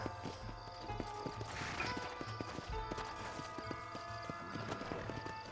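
Horse hooves clip-clop at a steady walking rhythm in Red Dead Redemption on Xbox One, close and distinct over soft in-game music and ambience.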